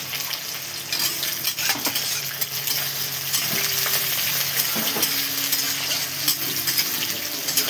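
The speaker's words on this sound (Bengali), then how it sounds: "তেলটা গরম হয়ে গেছে, এবার আমি দেবো জিরে, পেঁয়াজ কুচি, কাঁচা লঙ্কা কুচি" Cumin seeds, chopped onion and green chilli sizzle in hot oil for a Bengali prawn chorchori, a steady broadband frying hiss with occasional stirring clinks and scrapes, close and continuous with no talking.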